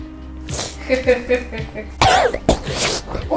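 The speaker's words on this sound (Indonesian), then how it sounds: "Maaf lagi batuk dan ingusan." Several sharp coughs break out amid speech, followed by a harsh throat-clearing cough, close and fairly loud.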